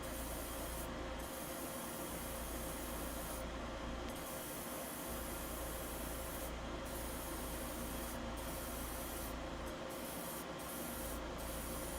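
Steady, continuous spray coating a Master Grade Guntank model kit, a broad hissing wash that runs the whole time with a few brief pauses and no voices.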